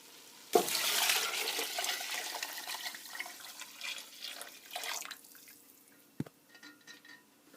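Water pours steadily into a soup pot, a close, splashing gush that starts abruptly and gradually thins to trickles and drips before stopping, with no talk.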